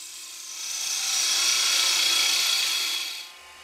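A wood lathe turning a goblet base while an Easy Wood Tools carbide cutter makes a slow finishing pass, a steady hissing scrape that swells over about two seconds and then fades, close and alone.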